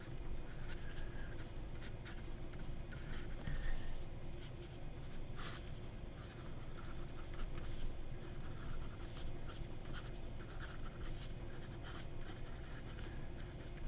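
Steady scratchy writing from a Pelikan M800-style fountain pen with a Schmidt broad nib gliding wetly across paper, close and continuous with small strokes and pauses, no talking.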